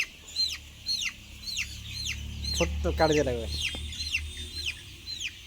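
Chickens on a poultry farm clucking repeatedly during beak trimming, close and in a steady run of short calls, while a person speaks briefly in the middle.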